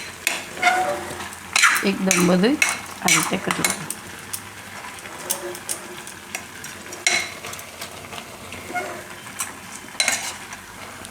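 Mixed halwa with sugar being stirred in a metal pot, a spoon scraping and clinking against the sides in uneven bursts over a faint sizzle, while someone briefly speaks near the start.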